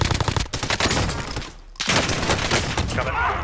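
Rapid automatic gunfire rattles through a video game firefight in dense, loud bursts with a brief pause midway, with a player's voice talking over the shots.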